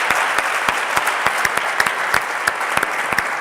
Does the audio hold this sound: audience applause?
yes